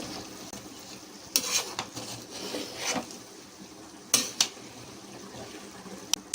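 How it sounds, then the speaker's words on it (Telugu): A spoon scrapes and stirs through thick country-chicken biryani in a pot, a few quiet scraping strokes at uneven intervals against a soft background hiss. "ఒకసారి కలిపి పెట్టుకోవాలి"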